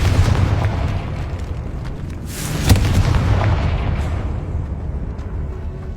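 A Confringo fire spell bursts into an explosion in Hogwarts Legacy, a loud booming blast that rolls and rumbles over a low ambient bed before fading out gradually.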